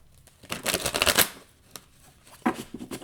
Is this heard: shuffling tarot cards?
yes